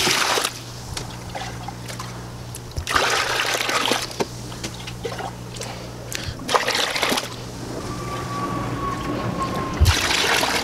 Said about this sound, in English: Start taking some water out.